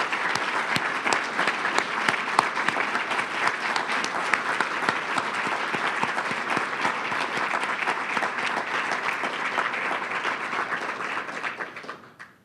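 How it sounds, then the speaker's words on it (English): Sustained applause from an audience at a youth recognition ceremony honoring award recipients, a dense steady roar of many hands lasting over ten seconds before fading out quickly at the end. "Let's give all recipients one more round of applause."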